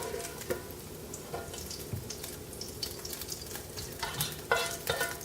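Bacon sizzles and crackles in its rendered fat in a pot on the heat, with steady frying hiss, occasional stirring scrapes and a few louder pops close by.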